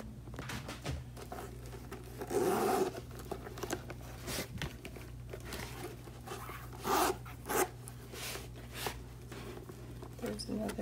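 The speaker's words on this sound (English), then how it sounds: "But it still works, the zipper." Soft rustling and handling noises with a few brief zipper pulls on a 1970s Coach leather pouch bag, its pull missing, the slider rasping along the teeth in short strokes.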